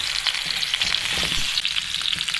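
Pickle ingredients fry in a pan for pachadi, a steady close sizzle with soft crackles running throughout, no voices.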